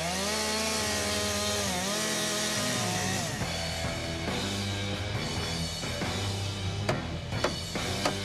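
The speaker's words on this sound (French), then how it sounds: "Passez-moi une tronçonneuse." A chainsaw cutting into a wooden block at a lakeside building site, its engine droning steadily and loudly throughout, shifting pitch as the chain bites into the wood.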